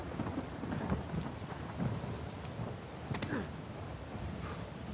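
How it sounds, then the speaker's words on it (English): Steady rain with rumbling thunder in the Uncharted 4 video game, a dense wash of rainfall with low rolling thunder beneath and a few sharper crackles, no talk. "The rain in here is prettier than it is in the Batman Arkham Knight."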